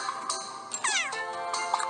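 Cats meow in a video game, several close, bright mews with one long rising-falling cry in the middle, over faint game tones.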